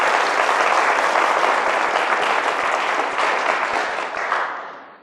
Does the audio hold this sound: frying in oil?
no